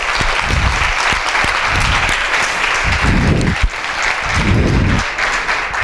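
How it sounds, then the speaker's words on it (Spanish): A conference audience claps steadily and loudly, sustained applause filling the room with occasional swells. "vamos a dar un fuerte aplauso a la organización de este evento"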